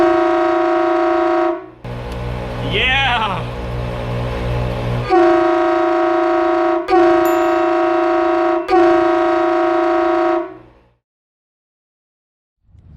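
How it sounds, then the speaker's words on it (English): Kleinn train horns fed by an ARB compressor on-board air system blast loudly in several long chord bursts, the last few separated by short gaps, before cutting to silence; a brief pitch-sweeping wail sounds early on and a voice says a word. "It's not a full test until you test the train horns."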